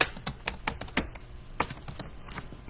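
Typing on a computer keyboard, a quick irregular run of close key clicks at low level, with no speech.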